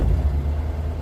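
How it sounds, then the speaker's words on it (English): A 1973 Jeep Commando with a 304 V8, left sitting for years, idles with a low, steady rumble that carries a slightly uneven throb, close up and alone. "Fires right up. It idles great."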